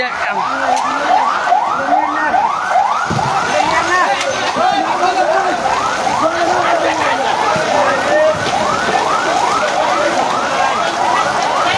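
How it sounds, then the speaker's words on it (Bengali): A fire engine siren wails loud and close as the truck arrives at a blazing fire at Gazipur Chowrasta, its rising and falling sweeps repeating steadily the whole time, with voices faintly underneath. "ফায়ার সার্ভিস এসে পড়ছে, ফায়ার সার্ভিস আসছে"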